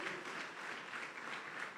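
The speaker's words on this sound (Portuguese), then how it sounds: "Dá um aplauso bem forte ao Senhor." Brief burst of congregation applause in a church, dense clapping at a moderate distance with no talking over it.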